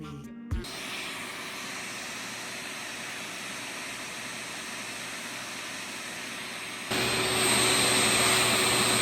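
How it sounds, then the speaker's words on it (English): A vacuum cleaner runs continuously and loudly while cleaning a circle track engine, a 318, with a steady roaring whine that starts abruptly and grows brighter and louder partway through. "Always be sure to vacuum the"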